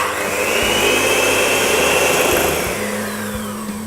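Caster sugar and two eggs being beaten together with an electric mixer, a steady continuous motor whir with a rising whine, loud and close throughout with no talk.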